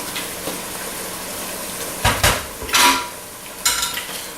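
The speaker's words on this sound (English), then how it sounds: "And just stir it on in and really incorporate it" Tomato paste being stirred into sauce in a pan over low heat for spaghetti and meatballs with sausage, a soft background sizzle broken by three bursts of spoon scraping and clinking against the pan.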